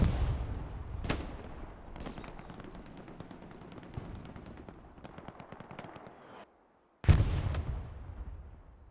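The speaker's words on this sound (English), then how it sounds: "That 76 actually eats a rocket from Odyssey over here." Rocket impacts and rapid gunfire in a competitive team shooter match, sharp explosive bursts amid a continuous crackle of shots, one loud blast after a brief silence near the end, without talk.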